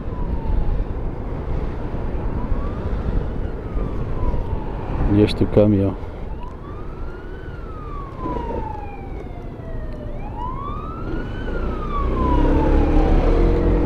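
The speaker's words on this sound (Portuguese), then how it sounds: "Olha, mas acho que vem lá uma ambulância atrás de mim." An ambulance siren wails in repeated rising and falling sweeps behind a car in Portuguese traffic, moderately loud amid road noise, with a brief burst of horn-like noise midway and someone speaking briefly.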